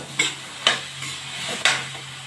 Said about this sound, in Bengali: মশলাটাকে এখন আমি প্রায় দশ পনেরো মিনিট ভালো করে কষিয়ে নেব